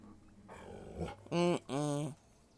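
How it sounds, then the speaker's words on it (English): A dog lets out two short, loud growling barks close by, preceded by a lower rumbling growl, with some faint talk in the background. "No barking."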